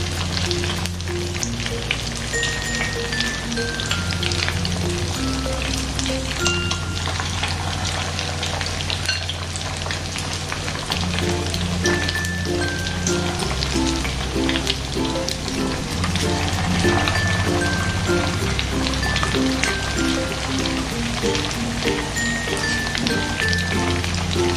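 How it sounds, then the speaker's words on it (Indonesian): Tofu fries in hot oil with a dense, steady sizzle and crackle, close and constant throughout, while gentle background music plays and no one speaks. "Kemudian sekarang bisa kita goreng."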